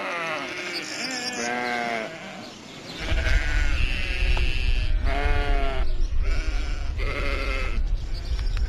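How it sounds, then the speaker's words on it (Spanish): A flock of sheep bleats repeatedly as it is called out onto the Celadas hills in Spain: many overlapping, loud, nearby bleats, with a steady low rumble of wind or movement joining partway through. "Llama a las ovejas y las saca por las sierras de Celadas."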